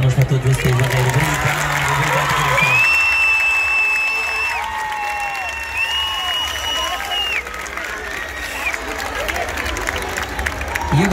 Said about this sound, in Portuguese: Queria uma salva de palmas para todos vocês